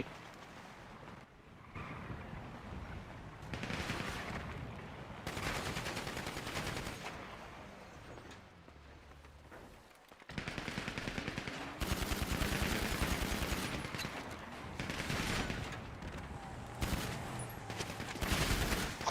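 Bursts of rapid automatic gunfire from a video game come and go in long volleys, fairly loud, with short quieter gaps between them and no talking.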